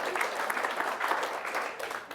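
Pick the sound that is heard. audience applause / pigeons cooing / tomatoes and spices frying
audience applause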